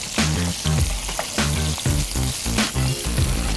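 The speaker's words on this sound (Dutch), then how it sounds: "dan ga je ze rustig om en om bakken" Thai fish cakes coated in cornstarch frying in a pan over low heat, a close, steady sizzle broken by repeated rhythmic bursts as they are moved and turned.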